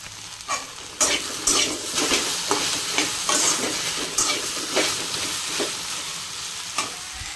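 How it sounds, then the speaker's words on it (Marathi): Okra (bhindi) frying in oil while being stirred, a steady close sizzle broken by repeated scraping strokes of a spatula against the pan at an uneven rhythm, with no voices. "कधी पण भेंडी करायची असेल ना आधी तेलामध्ये भाजून घ्यायची"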